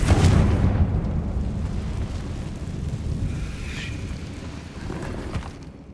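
A Confringo fire-spell explosion in the video game Hogwarts Legacy, a loud rumbling blast that opens with a heavy boom and decays into a long, rolling roar over several seconds, with no voices.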